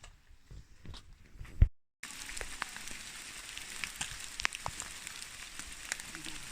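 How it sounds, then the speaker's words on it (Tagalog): Steady rain patters on a surface with a soft continuous hiss and occasional heavier drops, after a brief quieter opening, on the Mt. Apo Sta. Cruz trail. "Inabot ng ulan, mga kapuso."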